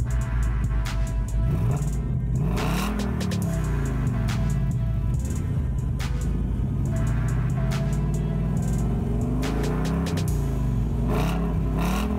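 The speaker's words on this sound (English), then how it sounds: "you do have the quad exhaust, which I will show you guys what that sounds like" A 2018 Ford Mustang GT's 5.0 V8 rumbles loudly through its stock quad exhaust and revs repeatedly, its exhaust note rising and falling in deep surges, close and continuous.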